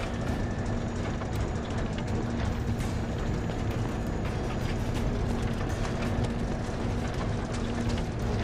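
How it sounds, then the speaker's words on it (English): A large vacuum machine being pushed in Final Fantasy VII Rebirth gives off a steady, loud mechanical drone with a low hum and scattered clanks and rattles, continuous throughout with no talk. "what this machine is, it's a big, massive vacuum"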